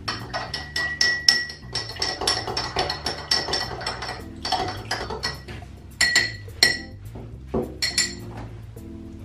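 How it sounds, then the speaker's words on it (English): Bar spoon stirring 50ml of Beefeater gin in a glass for a breakfast martini, giving a quick run of bright metallic clinks and taps against the glass, close and fairly steady, with no talking. "We'll stir that until it dissolves."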